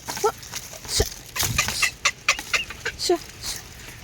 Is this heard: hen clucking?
yes